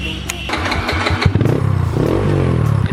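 Loud motorcycle on a road trip in Bali, its engine starting with sputtering pops and then settling into a rough, throaty idle with revving, close by and dominant throughout.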